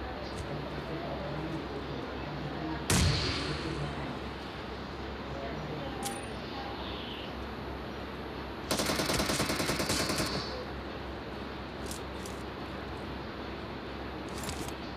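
Bomb explosion and bursts of gunfire in the PUBG battle royale video game: one sharp blast near the start, a dense rapid burst of shots later, with a few isolated cracks, all over continuous game ambience and talk.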